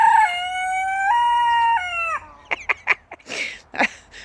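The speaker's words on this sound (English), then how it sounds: "He hasn't long learnt how to crow." A young rooster crows once in a long, wavering, stepped call, followed by short clucks and squawks from nearby chickens.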